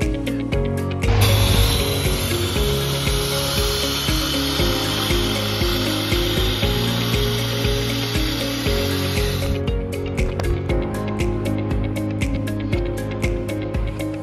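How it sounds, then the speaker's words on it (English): A Lematec AS118-2C sandblaster gun runs a vacuum suction test with no media, its loud high hiss of air rushing in over a mechanical drone, then cutting off and leaving a rattling hum. "Test the Sandblaster vacuum suction without media to ensure it is working properly."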